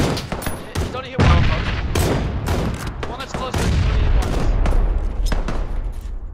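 Video game battle gunfire in a custom match: sharp, irregular shots and short bursts crack over a continuous rumble of combat, close and loud, with people talking over the fighting.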